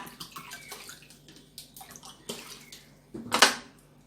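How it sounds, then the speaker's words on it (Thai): Water poured from a measuring cup into a cooking pot while making a Thai clear cabbage soup, a brief splashing pour of about half a second, close and fairly loud, after a few quieter kitchen clinks and rustles. "ใส่น้ำลงไปสองถ้วย ใส่น้ำลงไปสองถ้วยนะคะ"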